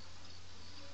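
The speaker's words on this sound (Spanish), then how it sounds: "en verano me gusta cómo es que se oyen las abejas" Summer bees buzzing in the Banjo-Kazooie video game, a brief, quiet, steady insect drone that holds evenly throughout with no voices.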